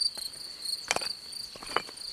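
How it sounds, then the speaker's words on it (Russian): High, thin cricket chirps in short bursts over a quiet, windless background at Saur-Mogila, a few close trills repeating irregularly. "Сверчки тут сверчат."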